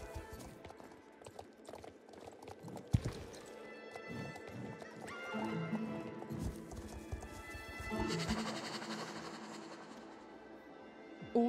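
Horse hooves clip-clop from riding in the video game Star Stable, with a whinny and game music mixed in. The hoofbeats stay fairly close and steady throughout.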